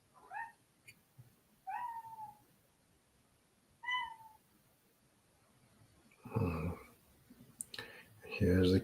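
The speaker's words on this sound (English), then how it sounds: "Here's the cat." A cat gives three short, rising meows spaced a couple of seconds apart over a quiet background, then people start talking near the end.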